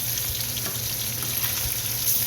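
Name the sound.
stirring carne con chili colorado meat frying in pan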